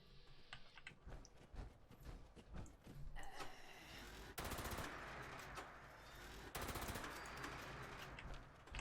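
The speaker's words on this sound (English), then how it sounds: "So you want to shoot in bursts like that." Rapid bursts of automatic gunfire in Fallout 76, clustered volleys of sharp shots with brief gaps, fairly loud and continuous in the later half.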